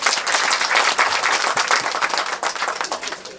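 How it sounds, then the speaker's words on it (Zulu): Wedding guests applaud steadily and densely for about three and a half seconds, a close crowd of many hands clapping without pause. "Ngicela nibashayele elikhulu ihlombe"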